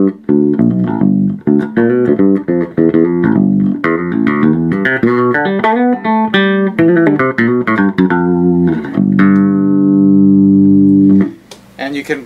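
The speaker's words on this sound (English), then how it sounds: "Roll over to the magnetic pickup for more of an electric tone." A fretted 32-inch-scale Minotaur bass guitar through a magnetic pickup plays a busy run of plucked notes with a bright, electric tone, ending on a sustained note that fades.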